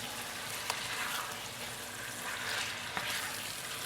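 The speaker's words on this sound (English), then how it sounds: "we're just going to sear our chunks of meat" Chunks of beef searing in about a quarter cup of organic shortening for Hungarian goulash give a steady, close sizzle and crackle, with a couple of sharp clicks from the pan along the way.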